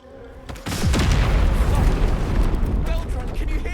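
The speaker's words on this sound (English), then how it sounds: "Now we can throw the bomb." A bomb goes off in Baldur's Gate 3 with a sudden heavy boom and a long rumbling, crackling roar that keeps going at full loudness, with voices mixed in.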